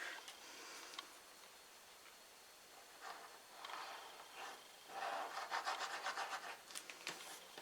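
Hands rubbing together to work craft glue off the fingers at a card-making bench, soft dry swishing strokes that come in bursts and grow denser and louder toward the end, close by.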